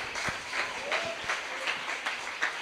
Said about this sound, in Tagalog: Lahat ng anak ng Diyos, pumalakpak.